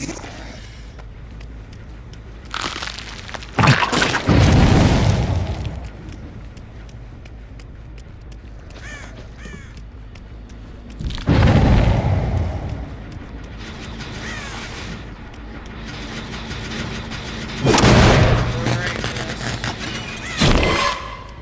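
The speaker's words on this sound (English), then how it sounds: "Artillery fire." Heavy artillery booms in The Unknown video game, arriving as several loud, broad bursts spaced a few seconds apart, each rumbling briefly before fading back into a low ambient background.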